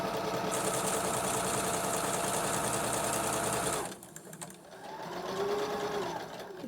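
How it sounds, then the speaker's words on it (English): A sewing machine runs fast and steady, sewing a fabric flounce for the bottom of a dress, then stops abruptly, leaving quieter room sound with faint rustling. "So I'm just sewing a flounce for the bottom of the dress."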